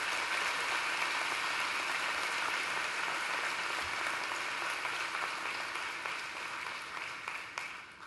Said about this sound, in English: let's give a special round of applause for your families